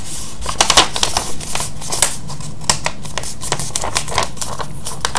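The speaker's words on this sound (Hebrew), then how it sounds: "מקפלים לחצי, מהדקים, מניחים" A square of paper is folded in half and creased firmly for an origami shuriken, close crisp rustles and sharp snapping creases in a quick irregular run.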